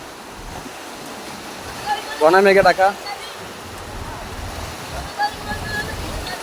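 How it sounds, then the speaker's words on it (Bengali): Strong wind roars steadily with a broad wash like floodwater waves, while a person speaks briefly partway through. "কি পরিমাণ বাতাস, একটু দেখেন কি পরিমাণ বাতাস"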